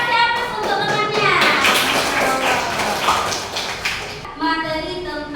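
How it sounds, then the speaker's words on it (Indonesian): A classroom of young students claps for a classmate, a burst of dense, fairly loud applause with children's voices mixed in, fading as a teacher begins talking. "Kita kasih aplaus untuk temannya."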